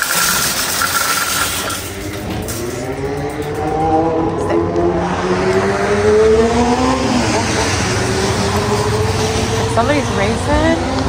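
A car races outside with a revving engine, rising and falling sweeps of engine tone that build louder midway, heard from a distance while a person talks nearby.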